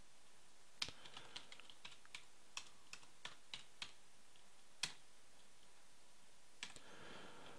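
Keys on a computer keyboard are tapped in a quiet room, with sharp, separate clicks coming in short irregular runs and a louder key press standing out near the middle.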